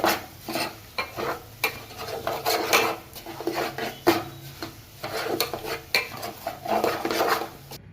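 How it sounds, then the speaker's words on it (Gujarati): Cracked wheat roasting in a pan over a low gas flame, stirred steadily with a spatula: repeated close scraping and rasping strokes in an uneven rhythm over a faint sizzle. "ધીમા ગેસ ઉપર ફાડિયા શેકતી વખતે તવીથાથી સતત હલાવતું રહેવાનું"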